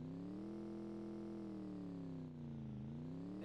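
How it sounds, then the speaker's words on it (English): A vehicle engine revs in a snowy military video game, holding a loud, sustained droning note that dips and climbs again partway through. No voices are heard over it. "who's revving the engine?"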